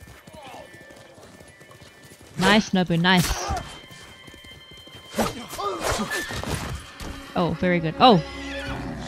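A horse in the Ghost of Tsushima video game clip-clops along and neighs loudly several times, whinnies standing out over the hoofbeats while a player talks excitedly between them.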